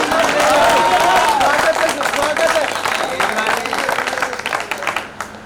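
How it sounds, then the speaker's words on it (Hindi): A crowd at a Hindi poetry recital breaks into applause: a brisk wash of clapping runs throughout, with a voice audible over it and the clapping tapering off near the end. "आप आज्ञा दे तो एक बार तालियां बजा दीजिए"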